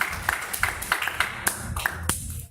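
A church congregation claps in acclamation of the Lord, with a run of sharp, fairly evenly spaced claps close by and no talking over them, ending in a brief fade.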